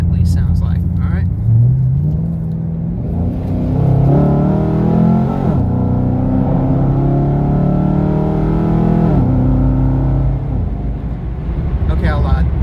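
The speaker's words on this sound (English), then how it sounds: "I'll downshift, I'll let you hear what the exhaust sounds like." A 2013 Chevrolet Camaro SS convertible with a new exhaust roars at full throttle, revving up through the gears with a loud, deep, raspy rumble close by.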